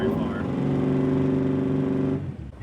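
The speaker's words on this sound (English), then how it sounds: "The car's still running though. Is it down on power so much? Because I think the exhaust is underwater." A car engine sitting in a lake with its exhaust underwater holds a strained, steady drone at fairly constant pitch, failing to rev higher, then cuts out near the end.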